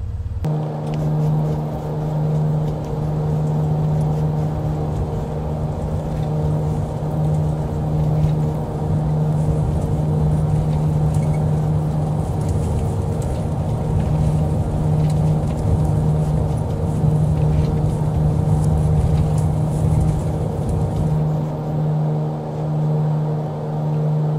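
A Mooney M20R Ovation single-engine piston plane takes off in Microsoft Flight Simulator 2020, its engine a loud, steady droning hum with a constant tonal buzz that holds for the whole stretch and drops away at the end.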